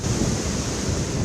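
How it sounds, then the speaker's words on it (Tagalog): Strong typhoon wind roars in a dense, unbroken rush of noise over Gonzaga, Cagayan, buffeting the microphone with no pause for about a second. "Sumisipol ang napakalakas na hangin sa Gonzaga, Cagayan."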